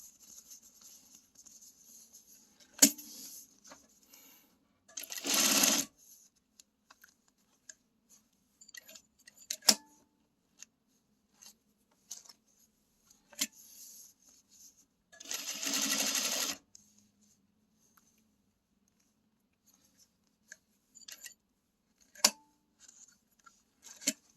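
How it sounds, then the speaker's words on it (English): A sewing machine stitches along a zipper in two short, steady motor bursts about ten seconds apart, with small clicks and handling sounds in the quiet between them. "take out that pin and do our back stitch"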